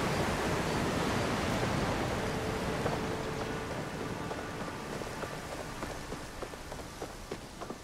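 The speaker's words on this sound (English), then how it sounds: "Waterfall." Steady rushing water from a waterfall in the video game Palia, a dense continuous wash that stays fairly loud and slowly eases, with faint clicks and tones from the game sounding over it.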